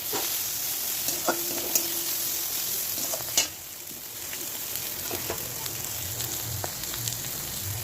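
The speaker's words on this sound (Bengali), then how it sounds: "আমার ভাজাটা হয়ে গেছে, এবার আমি ভাজাটা নামাবো" Vegetable fry sizzling in a pan on a home stove, a steady crackling hiss with occasional clinks and scrapes as it is stirred and lifted off the heat, with no talking.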